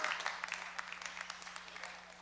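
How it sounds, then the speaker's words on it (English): Steady, moderately loud applause from a summit audience greeting a panelist, many overlapping hand claps in a continuous patter over a faint low hum. "Yeah, round of applause."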